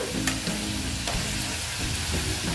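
Cumin powder frying in a pan of Bengali radish curry (mulor ghonto), a steady close sizzle with stirring scrapes throughout, no voices.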